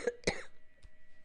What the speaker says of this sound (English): It's mostly coughing.